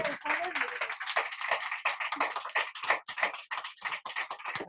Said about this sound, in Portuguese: Aplauda ao Senhor, então.